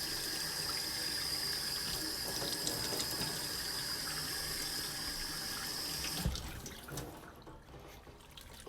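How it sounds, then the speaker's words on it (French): Water from a tap runs steadily, rinsing the inside of a blackened part during heating-system maintenance, then stops abruptly, leaving a few faint drips and clatters. "On vient le rincer à l'intérieur."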